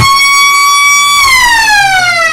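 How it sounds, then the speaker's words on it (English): A loud, sustained quarter-time siren wail at an Australian football ground, the Eastern Oval, holds a steady pitch, then slides downward as it winds off, sounding alone with no voices. "the quarter time siren does sound here at the Eastern Oval"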